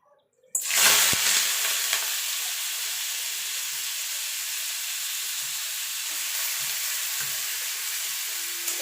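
Water lily stems hit hot mustard oil with a sudden loud burst of sizzling that settles into a steady, close, hissing fry, continuing without talk.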